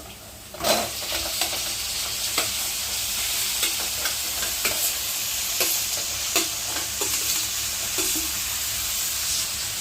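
Chicken pieces fry in a pan with onion masala, a loud continuous sizzle punctuated by repeated spoon scrapes and clinks as it is stirred, with no talking.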